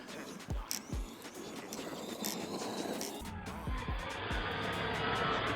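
An Arrma Gorgon two-wheel-drive RC car driving on loose ground, its small electric motor whining as it accelerates, with short tire scrapes and skids; the motor note rises and falls over several passes.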